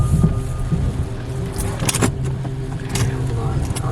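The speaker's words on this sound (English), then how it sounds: "Wow, this is a busy road." Cars on a busy road sweep past in a steady, loud rumble of traffic, with several passes swelling and fading while people talk over it.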